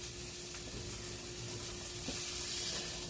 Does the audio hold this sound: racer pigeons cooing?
no